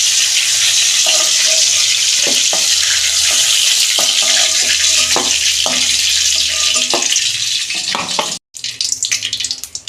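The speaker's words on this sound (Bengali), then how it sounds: "এইভাবে আমি সব ঝিঙেগুলো ভেজে নেব" Ridge gourd pieces fry in white oil with a loud, continuous sizzle, broken by the clatter of stirring and a brief splash of water near the end.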